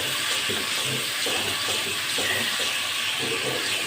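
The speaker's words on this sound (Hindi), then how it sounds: "ये थोड़ा सा हमारा सौते हो जाए तो फिर हम इसमें सब्जियां ऐड कर देंगे" Steady hissing sizzle of food sautéing in a hot pan while pasta is being made, a continuous close wash of spitting and frying with faint clinks, no talk over it.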